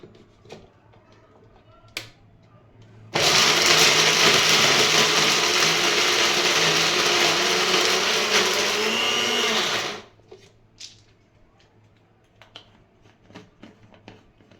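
A mixer grinder roars loudly for about seven seconds as it grinds ginger chutney, framed by small clicks and handling taps before it starts and after it stops.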